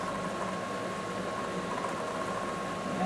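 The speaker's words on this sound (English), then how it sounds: "So we want a good simmer going on." A shrimp and bacon sauce simmers on an electric stove at medium-high heat, giving a steady close bubbling hiss that runs evenly throughout, with no talking.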